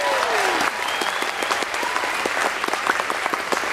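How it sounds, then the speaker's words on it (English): Audience on the JoCo Cruise ship claps steadily during an orientation session, a dense, sustained round of applause with a few cheers and whistles rising over it. "So, yeah, clap again."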